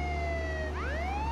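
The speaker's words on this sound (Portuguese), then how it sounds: "Vamos ligar a sirene." A police car siren in the video game Contraband Police wails loud and close, holding a tone and then sweeping back upward in pitch over a steady engine rumble.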